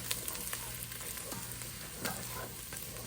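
Asparagus pieces and garlic sauté in a hot pan with a steady, close sizzle and occasional stirring scrapes, no voices.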